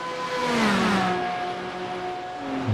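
Porsche GT3 race cars in a racing video game sweep past with a smooth rising-and-falling engine whine, a near pass that fades slightly before another car approaches at the end.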